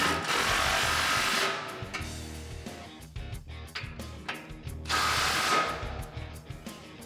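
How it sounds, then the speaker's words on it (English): Ratchet tightening the bumper bracket bolts on a RAM 1500, two long bursts of rapid close clicking separated by slower, uneven ratchet strokes and metallic handling sounds. "Now go ahead and tighten down the rest of your brackets."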